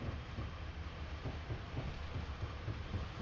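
A Class 50 diesel locomotive idles at a station platform in a train simulator set on Scotland's western lines, giving a steady low rumbling hum with faint rhythmic pulsing at moderate volume and no speech.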